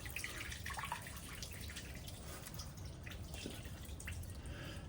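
Water draining through a mesh screen from shredded food waste pulp, which was ground in an InSinkErator disposal for compost worms: a steady, continuous trickle and drip near at hand, with no talk.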